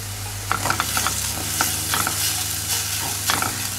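Steady sizzling of meat frying in a pan with spices, with scraping and clinking from a utensil stirring it every so often, close by.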